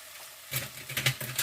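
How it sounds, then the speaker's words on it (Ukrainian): Vermicelli frying in fat in a pot and being stirred, a soft patter and scrape that starts up after a quiet moment and continues in close, uneven bursts. "Ми повинні її отак всю гарно помішувати, щоб кожна вермишелинка ніби посмажилась і була пропитана жирком."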